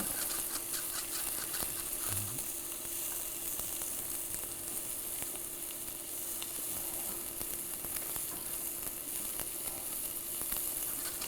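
Shallots sizzling in a pan as their water cooks off, a faint, steady crackling hiss at even level throughout, with no talking.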